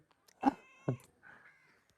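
A mother cat with two kittens gives two short, clear meows close by, followed by a softer, drawn-out mew; no one speaks.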